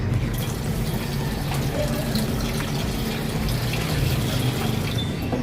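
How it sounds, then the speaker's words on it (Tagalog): A little water poured into a cooking pot, a continuous close splashing and gurgling stream at steady volume throughout, with no talk. "Tapos lagyan natin ng konting tubig."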